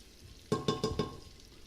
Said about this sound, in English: just want to brown the meat